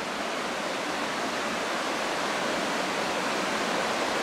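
A waterfall beside a track gives off a steady, full rushing roar that holds at an even level throughout, with no voices.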